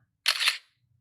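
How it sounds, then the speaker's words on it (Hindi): A phone camera shutter fires once while photographing a paper document for a scanning app, a crisp, bright click-swish up close with no talking. "कैमरा में जाके लेट अस सपोज इसका मैं एक फ़ोटो ले लेता हूँ"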